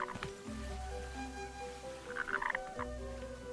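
A frog croaking in Kena: Bridge of Spirits, with low croaks and a few bright chirping calls over a steady ambient game soundscape with music tones and no talk.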